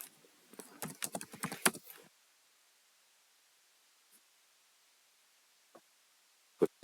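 Quick typing on a computer keyboard sounds as a short burst of close key clicks for about two seconds, then near silence with a few isolated taps at the end.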